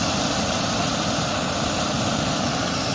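A small camping stove's afterburner is turned up high, giving a steady, loud, close roar that holds without a break.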